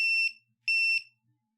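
A smart ceiling fan controller's buzzer gives two sharp, loud, steady electronic beeps, each about a quarter second long, separated by a short silence.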